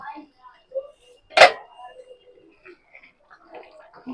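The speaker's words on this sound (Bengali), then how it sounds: "ঢাকাটা খুলে আমি একবার দেখে নেব।" A lid comes off a pot of masala paneer with a single sharp metallic clank amid soft kitchen sounds and a voice talking nearby.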